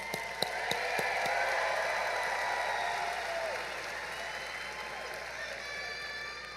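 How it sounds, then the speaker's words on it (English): Applause for the class at a high school graduation ceremony, a soft, distant wash of clapping with a few sharp claps near the start, fading slightly toward the end beneath a steady background tone. "Class of 2026, let's give them a round of applause."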